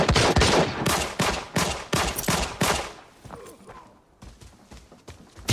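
Gunfire in Arena Breakout comes as a rapid series of loud sharp shots, dense at first and then sparser, with a final burst at the end.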